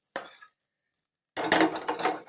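Cooked meat being moved into a bowl in a home kitchen: a short clink, a pause of quiet, then a run of close scraping and clattering of utensil against dishes.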